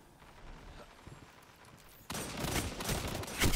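Gunfire in Destiny 2: faint scattered shots at first, then a sudden loud burst of rapid, dense firing that continues to the end with a sharp crack near the close.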